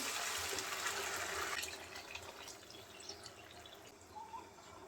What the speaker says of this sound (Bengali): এখন গরম পানি দিয়ে দেবো এর মধ্যে